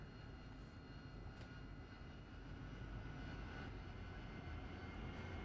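Steady, loud engine roar of an AV-8B jet aircraft in the DCS flight simulator, sitting on the runway before takeoff on a night air-to-air refueling mission, a continuous broadband drone holding level throughout with no voices.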